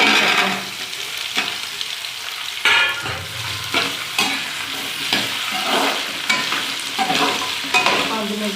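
Potatoes fried in a pan with cumin, chili, turmeric, chaat masala and amchur, sizzling steadily while a spoon stirs in repeated scraping strokes, close and fairly loud with no talk.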